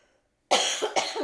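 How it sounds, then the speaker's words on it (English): A person coughs hard several times in quick succession after a brief silence, close and loud, with harsh bursts running together. "I'm about to start coughing, I'm afraid."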